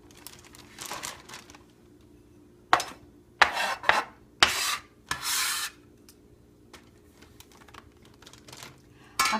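Small scraper dragging orange zest and a teaspoon of garlic off a cutting board for a marinated orange ginger salmon: several short, bursty scrapes and rasps separated by quiet gaps, close and fairly loud.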